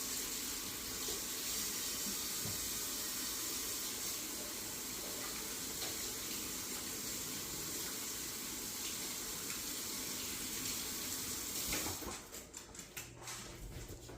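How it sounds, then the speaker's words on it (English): Tap water runs steadily into a kitchen sink while hands are washed, a continuous close splashing hiss that breaks into choppier splashes near the end, with no talking. "Always wash your hands."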